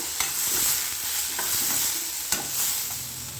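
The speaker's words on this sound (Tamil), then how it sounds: "இந்த தக்காளி நல்லா பச்சை வாசனை போக வதங்கணும்" Large tomato pieces sauté in a pan for radish kulambu, a soft steady sizzle broken by two crisp clacks of the spatula against the pan; no voices.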